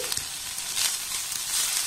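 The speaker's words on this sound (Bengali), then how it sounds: "পেঁয়াজটাকে একটু হালকা নাড়াচাড়া করে ভেজে নেব।" Onion sizzles in hot oil as it is stirred, a close, steady crackling hiss with small scraping bumps through a short stretch, no voices present.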